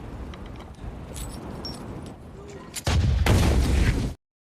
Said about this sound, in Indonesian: mendengar suara ledakan itu